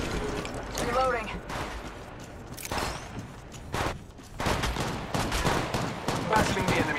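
Rapid bursts of weapon fire in Apex Legends gameplay, clustered volleys separated by short gaps, with mechanical clicks and clatter mixed into a busy game soundscape.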